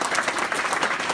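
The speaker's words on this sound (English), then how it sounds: "So big round of applause for them." Audience applause at a community breakfast event, a dense burst of clapping from a crowded room, steady and moderately loud for about a second.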